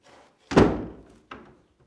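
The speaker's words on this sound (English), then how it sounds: "I didn't know they locked the door." A door in a closed meeting room is shut and locked, heard as one solid, fairly loud thunk followed a moment later by a shorter, quieter knock or latch sound, with no talking.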